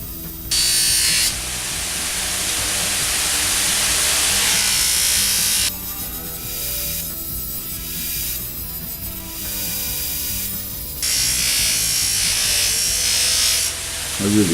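Steel piece for a handmade metal art project pressed against a spinning grinding wheel, a steady loud whirring grind running throughout with brief dips and changes in pitch as the workpiece shifts against the wheel.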